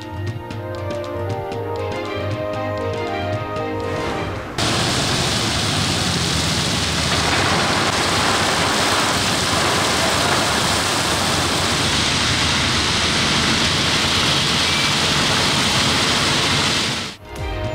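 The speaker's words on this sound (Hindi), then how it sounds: "कराची में सरमा की पहली बारिश हो गई।" Steady heavy rain pours down in Karachi during the season's first winter rainfall, a dense continuous hiss that comes in abruptly after a few seconds of musical news intro and holds loud and unbroken until a sudden cutoff.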